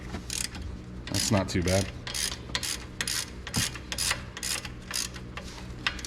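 A ratchet wrench clicks rapidly as a 13 mm bolt is loosened during a brake pad change on a Cadillac CTS-V, close and loud in short bursts, with a voice briefly over it.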